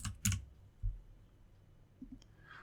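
Brief keystrokes on a computer keyboard, a few quiet scattered clicks with short pauses between them in a hushed room.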